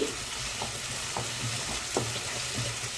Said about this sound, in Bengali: এবার ভালোভাবে ভেজে নিচ্ছি।